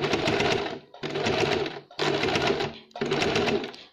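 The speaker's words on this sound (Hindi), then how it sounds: "देखिए इस तरह से हम सिलाई लगाते जाएंगे।" A sewing machine stitches a lace strip onto a glass-style neckline, running in four steady bursts of about a second each with short pauses between them, loud and close with no talk.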